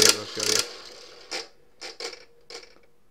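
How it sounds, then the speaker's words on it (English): Toy money bank with a built-in slot machine, its reels spinning: a few brisk mechanical rattles at the start, then several short separate clicking ticks as the spin winds down, close by with no talking. "But this is a money bank with a slot machine as well."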